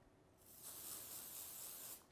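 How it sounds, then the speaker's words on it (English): Dr. Scholl's foot spray hissing from an aerosol can onto the face of a golf driver, a steady close spray burst of about a second and a half after a quiet start, ending with a brief second puff. "we sprayed it up"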